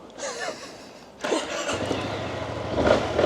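A car engine cranks briefly and turns over, then keeps running with a low steady drone.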